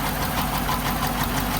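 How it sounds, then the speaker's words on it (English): A V8 Jeep engine idles loud and close with a steady rapid lifter tapping ticking through the rough, continuous running. "now we got this thing started. You can really hear the tapping."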